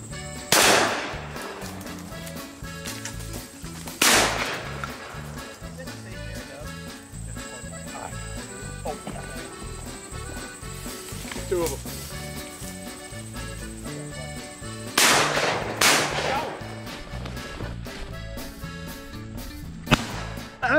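Sharp shotgun blasts ring out during a dove hunt in a Pennsylvania cornfield, with three loud reports spaced several seconds apart and a few fainter distant shots in between, over a steady outdoor background.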